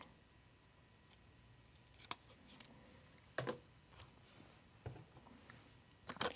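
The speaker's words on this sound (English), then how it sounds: "So I'm going to cut just this side of it, the side that's going to touch the other sticker." Scissors trimming the white border from a paper planner sticker, heard as a few quiet, close, separate snips spaced irregularly over a faint background.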